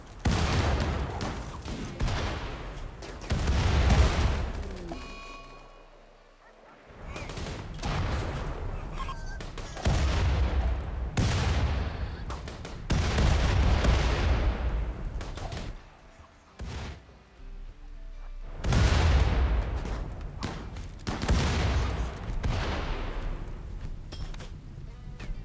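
Grenade explosions and gunfire in the colony-building game RimWorld arrive as a series of loud, booming bursts with decaying tails, spaced every few seconds across the stretch.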